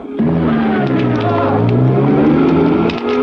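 A stolen car pulls away, its engine rising in a close, steady, rumbling acceleration that lasts a few seconds. No voices are heard.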